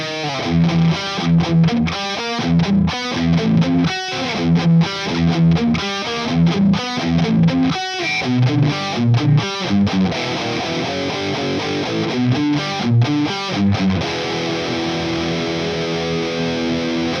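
A heavily distorted electric guitar plays chunky rhythmic riffs through a Victory VX Kraken MkII amp, ending on a sustained ringing chord.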